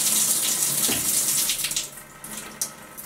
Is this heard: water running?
yes